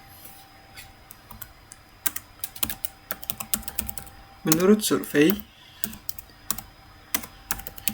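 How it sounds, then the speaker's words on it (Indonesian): Typing on a computer keyboard, a steady run of close, crisp key clicks with a short burst of speech partway through. "jadi di sini kita akan mengetik teksnya terlebih dahulu"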